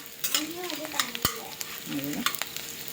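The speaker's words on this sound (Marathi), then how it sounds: "हे काजू बदाम तुपामध्ये तळून घेतलेले डिंक तळून घेत आहे" Edible gum fries in ghee in a home kitchen, a steady close sizzle with stirring scrapes and a sharp clack, no talk.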